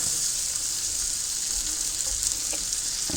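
Garlic and onion sizzle in a hot pan for a simple white sauce pasta, a steady, close, bright frying hiss with faint crackles throughout and no voices.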